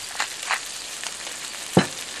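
Chicken seasoned with kosher salt and fresh-cut pepper sizzles steadily in a pan, a continuous close hiss broken by a few short scraping bursts as the pieces are moved.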